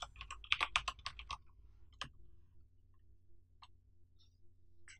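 Quick burst of clacky keystrokes on a computer keyboard, then a few isolated key presses spaced out over a quiet room hum.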